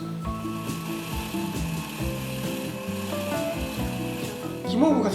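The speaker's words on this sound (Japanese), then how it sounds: "泡立てていきます。" A marshmallow (guimauve) mixture of hot honey-sugar syrup and softened gelatin is whipped, giving a continuous, even whirring and scraping churn at moderate volume with a small clatter at the end.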